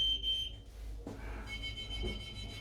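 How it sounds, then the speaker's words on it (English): A high electronic alarm tone sounds steadily inside an Action Mobil Atacama 6000 expedition vehicle, briefly cutting out before resuming with a slightly different pitch, fairly faint over a low background hum. "Oh, the alarm's gone off."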